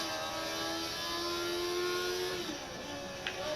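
A 1980s racing car engine in a racing video game whines steadily at high pitch, fairly faint, with a slight pitch drop near the end and no talk.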